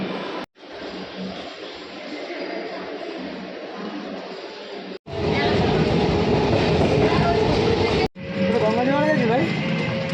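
A metro train at an elevated station rumbles and rolls past in loud continuous passes, broken by short cuts, with a person talking over the noise and a tonal announcement or whine near the end.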